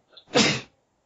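A single sharp human sneeze with a short intake beforehand, loud and close, followed by silence.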